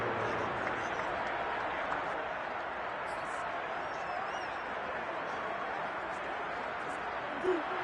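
A stadium crowd in an American football video game keeps up a steady, distant roar and murmur throughout, soft and even without any sharp peaks.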